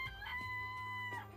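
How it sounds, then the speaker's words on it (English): A fat chicken in the Danganronpa video game lets out a drawn-out crowing, clucking call, loud and close, a single sustained game sound effect with no talking. "It's a chicken."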